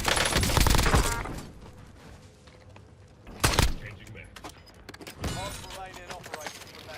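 Gunfire rattles in a shooter video game, with loud rapid bursts at the start and again midway, followed by quieter scattered shots and impacts.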